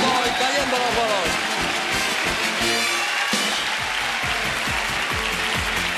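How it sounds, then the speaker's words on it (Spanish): Spectators cheer and clap for their teams at a televised summer Grand Prix bowling contest, a loud, continuous ovation mixed with rattling, mechanical clatter, and other voices heard in the mix. "Y hay la ovación lógica del público para sus equipos."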